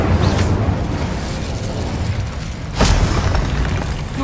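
A fire spell blast cast in the video game Hogwarts Legacy, amid a combat boss fight: dense, loud rumbling game noise with a sharp burst near the three-second mark, no talk.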